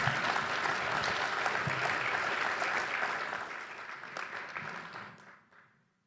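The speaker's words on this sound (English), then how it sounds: "Let's give them another round of applause, please." Audience applause at a university summit on modern conflict after a panel discussion. Dense, steady clapping from a full room holds for several seconds, then thins and fades to silence.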